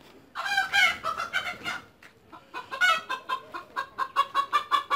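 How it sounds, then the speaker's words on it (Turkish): Several chickens cluck and squawk nearby in agitated bursts, building into a quick, repeated rhythm of clucks. "Tavuklar biraz korktu."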